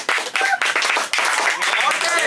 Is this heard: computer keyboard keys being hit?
no